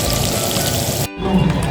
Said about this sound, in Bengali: সাউন্ডটা শুনতে পাচ্ছ মাছ ভাজা